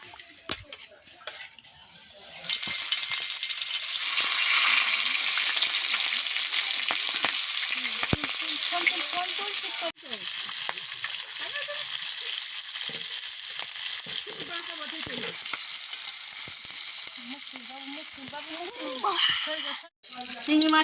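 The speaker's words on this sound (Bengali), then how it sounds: "তেলটা গরম হয়ে গেছে, শিঙি মাছগুলো ভেজে নিচ্ছি।" Singhi catfish dropped into hot oil, erupting after a quiet start into a loud, continuous spattering sizzle that lasts for many seconds.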